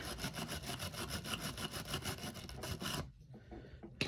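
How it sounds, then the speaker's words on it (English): A wire brush scrubs rust off an Airex Larchmont Model 312 fishing reel treated with WD-40, producing a fast, steady, close scratching rasp for about three seconds before stopping abruptly into near quiet. "I'm going to take my wire brush right here, try to clean that rust up a bit."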